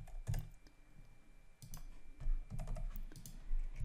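An answer is typed on a computer keyboard, with close, fairly loud clusters of key clacks in uneven bursts and short pauses between them, and no voice.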